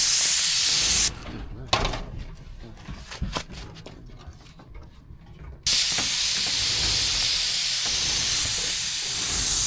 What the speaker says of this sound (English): So go ahead and spray.